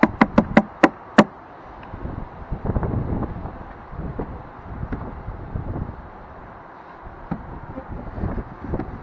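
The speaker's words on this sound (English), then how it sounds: "let's give it a few taps." Five sharp, evenly spaced taps on an upside-down wooden beehive box from a top bar hive, loud and close, followed by a low buzzing of bees and light handling noise outdoors.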